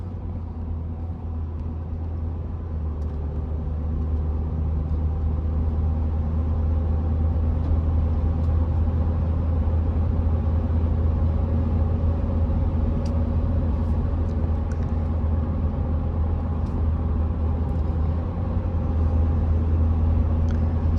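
Steady road and tire rumble fills a Ford truck cab at about 55 mph, a constant low hum and drone with no speech and only faint, occasional ticks over the noise.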